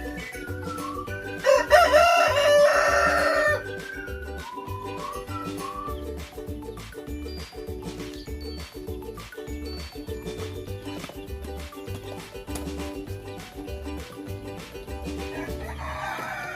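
A rooster crows loudly once near the start, with chickens clucking around a chick brooder and a steady rhythmic mechanical hum underneath throughout.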